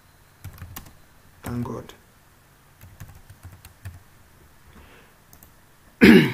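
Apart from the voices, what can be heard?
typing on a computer keyboard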